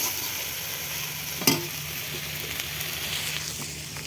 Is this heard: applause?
no